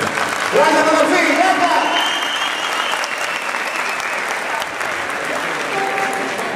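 An audience applauds musicians at a live performance, loud dense clapping that peaks early and then tapers gradually, with cheering voices and a few whistles mixed in.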